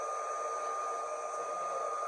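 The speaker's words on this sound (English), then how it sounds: "using the heat from the hair dryer" A hair dryer blows steadily up close, heating a wig during installation, a constant whirring hiss with a high whine, uninterrupted and alone.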